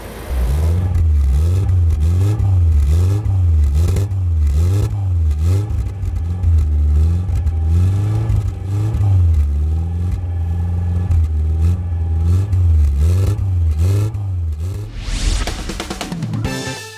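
A classic car engine runs in a steady rhythmic cycle of blips, the revs rising and falling evenly for about fifteen seconds before a burst of broadband noise closes it out.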